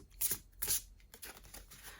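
Tarot cards are shuffled in two quick riffling bursts, followed by softer shuffling and rustling, close and quiet with no talking.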